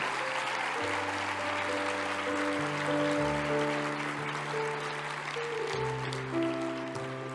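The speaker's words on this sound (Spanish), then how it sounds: "vamos con ese fuerte aplauso para reconocer esa tarea fantástica que hacen cada día" Applause fills the hall at the Premios PILOT 2019 award ceremony. The clapping is soft and continuous, heard at a distance beneath sustained background music.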